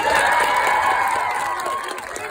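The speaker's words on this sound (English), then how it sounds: "Can we give a round of applause for Lynn?" A crowd at an outdoor climate march cheers and applauds, with loud overlapping shouts, whoops and clapping forming a continuous roar, voices mixed in.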